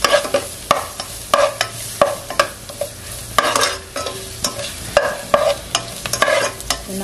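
Crushed garlic sautéed in a pan while making country chicken rasam, with steady sizzling frying under repeated sharp scrapes and clinks of a spoon stirring against the pan, close and without talk.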